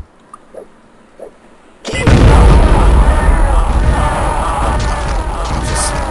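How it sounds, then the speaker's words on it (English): In the shooter game Shadow Warrior, a few soft clicks give way to a sudden loud sticky bomb blast that rolls into a sustained roaring, crackling rumble of explosions lasting several seconds. "Maybe now would be a good time to throw some sticky bombs"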